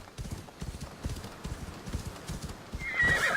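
A horse in Assassin's Creed Odyssey clip-clops in a steady run of hoofbeats, close and even. Near the end, a loud whinny rises over the hooves.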